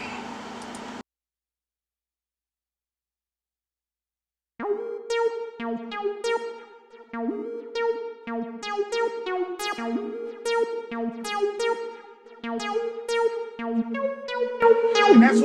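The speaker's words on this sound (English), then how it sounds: "that's the little funky lead sound that I got in there" A bright, funky Omnisphere synth lead plays a bouncy, syncopated melodic line over a steady 70s-style groove, after a short burst of noise and a brief silence.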